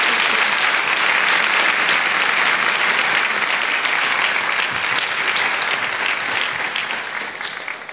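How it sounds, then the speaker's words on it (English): An audience at a This Is My Brave 2019 Houston show claps in a loud, dense, sustained round of applause that holds steady and then tapers slightly toward the end. "Let's give them a round of applause."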